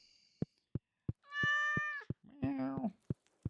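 A cat in Stardew Valley gives two drawn-out meows between regular sharp tapping clicks, clear and close, with a little faint talk nearby.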